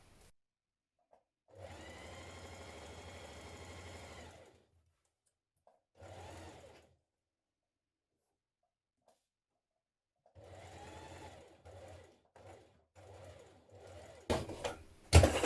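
A sewing machine stitches a seam on an artist's smock in several separate runs: one long steady whir, a short burst, then a string of brief stop-start stitches, each cutting off into quiet.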